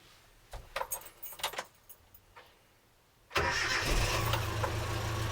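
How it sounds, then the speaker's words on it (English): Keys jangle close up inside a 1982 Dodge D50 pickup fitted with sound deadening. The engine then cranks, catches and settles into a steady, fairly loud idle for the final seconds. "I'm going to start the car and see if there's a difference."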